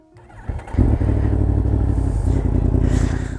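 A Yamaha MT-10 motorcycle engine with stock exhaust and mid pipe cranks and fires up, then settles into a loud, throbbing idle with a slight rev, close and unaccompanied.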